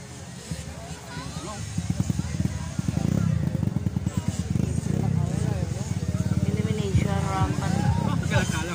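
50cc motocross bikes at a motocross track in La Paz, engines buzzing and revving steadily under a public-address announcer's voice.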